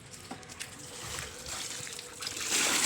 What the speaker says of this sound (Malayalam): മുയലിന്റെ മേത്ത് വെള്ളച്ചാട്ടം വീഴുന്നേ